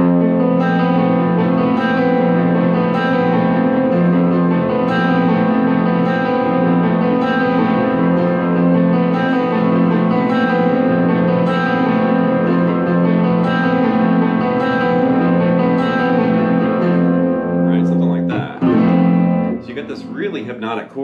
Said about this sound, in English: there's this really interesting chord and an unusual picking pattern, and it creates this spacey kind of hypnotic sound like this.